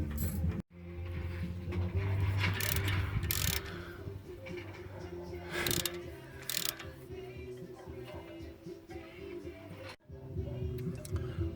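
A socket wrench ratchets against a brake caliper bolt on a Ford, with bursts of clicking pawl sounds and clanks of the tool, close by with some background noise.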